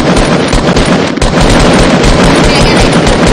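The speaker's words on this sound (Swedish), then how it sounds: "Skott, skott på Omega Dragon." Rapid video-game gunfire aimed at Omega Dragon, loud and dense, with bursts of shots running together into a continuous, crackling barrage from start to finish.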